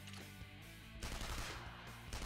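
Assault gun fire in Persona 5 Royal: continuous rapid automatic shots layered over loud game music, with a sharper burst partway through and no talking.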